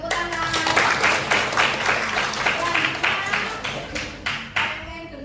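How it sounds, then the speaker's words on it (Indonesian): Classroom applause after a practice session: a small group clapping steadily for about five seconds, dense and close, tapering into a few scattered final claps. "Tepuk tangan"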